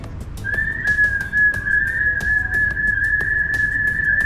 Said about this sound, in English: Okay, so black and yellow broadbill.